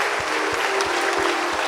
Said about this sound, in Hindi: Clap your hands and thank God.